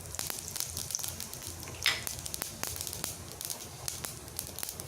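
Mustard seeds and cumin fry in hot oil in a kadai for pumpkin mor kulambu, making a close, continuous sizzle dotted with sharp crackles and pops, with nobody talking.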